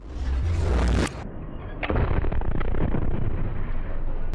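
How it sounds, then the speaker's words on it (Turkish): Rocket launcher strikes on Israeli armored vehicles, heard as a loud sustained blast roar, then a second sharp explosion near two seconds, followed by rumbling debris and a final abrupt burst. "İsrail zırhları roket atarlarla vuruldu."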